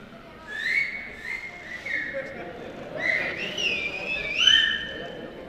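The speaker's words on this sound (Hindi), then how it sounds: "सीटी बजानी आती है, एक बार बजा दें अपनी जगह।" Several audience members in a hall whistle in turn, a string of sharp rising and falling tones that overlap toward the end, over a murmuring crowd.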